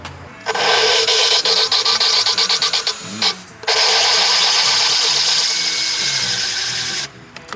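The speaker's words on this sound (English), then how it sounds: "You hear the sound of it. It's rough, and then it gets fine. It's lapping in." Engine valve being lapped during an at-home engine rebuild, with two long stretches of loud gritty grinding from a spinning tool, the first stuttering and rough and the second steadier, close up with a brief pause between.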